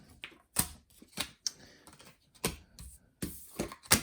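Playing cards being shuffled by hand, a series of quick crisp riffles and snaps in irregular bursts, close up.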